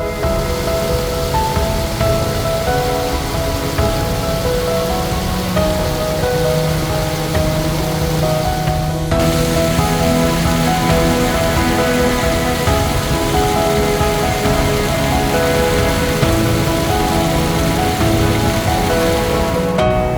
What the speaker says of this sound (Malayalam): കുറ്റിക്കാടുകൾക്കിടയിലൂടെ ഒഴുകിയെത്തി പാറക്കെട്ടുകൾക്കിടയിലൂടെ ചിതറിത്തെറിച്ച് താഴ്വാരത്തേക്ക്